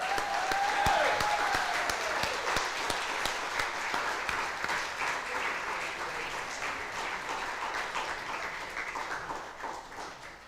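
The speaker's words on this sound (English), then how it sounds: "huge round of applause for them" A concert audience at a military academy music concert gives sustained applause, dense clapping that starts loud and slowly thins and fades, with a brief whistle early on.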